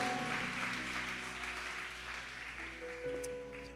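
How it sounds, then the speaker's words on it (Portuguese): Church congregation applauding during a Portuguese-language worship service, a broad sustained wash of clapping under a steady hum and sustained organ or keyboard tones, fading slightly toward the end. "Quem crê de verdade, aplauda o mais forte que você puder"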